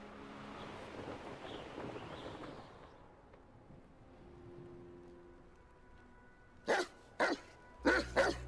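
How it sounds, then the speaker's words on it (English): Angry dogs barking in Hogwarts Legacy, four loud, separate barks in the closing seconds after a stretch of soft ambient wind and game background. "these angry doggies?"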